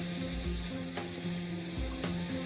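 Kale and chard fry in oil in a hot pan with a steady, close sizzle and crackle, punctuated by a couple of brief clatters, and no one speaking.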